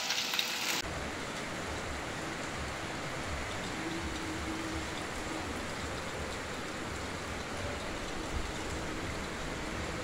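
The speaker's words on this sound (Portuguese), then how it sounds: "Chuva forte aqui de Itaporanga agora, nesse exato momento" Heavy rain falling at midnight in Itaporanga, Paraíba, Brazil, a dense continuous downpour hiss that stays even and loud throughout after a brief opening burst, with no talk.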